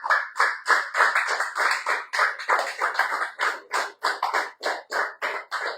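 A church congregation claps steadily for several seconds, dense overlapping applause with no voices, fairly close and loud throughout.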